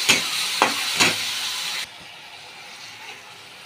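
Tomatoes and garlic-chili paste fry in a pan. A few sharp stirring scrapes cut over a bright sizzle, then the sound drops to a quieter, steady hiss.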